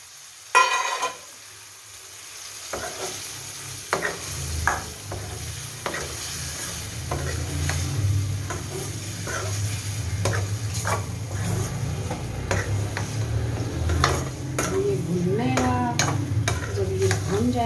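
Liver (kaleji) frying in masala while being stirred in the pan, a steady close sizzle with repeated scraping and tapping strokes of the spoon, and a voice speaking briefly at times.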